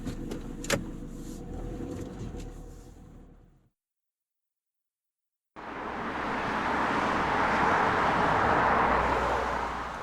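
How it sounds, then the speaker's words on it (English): An old bus camper van drives along a road in Sussex, its steady engine and road roar loud and close, broken by a silent gap of about two seconds before the driving noise resumes fuller and wider. "We get the old bus off to Mayfield."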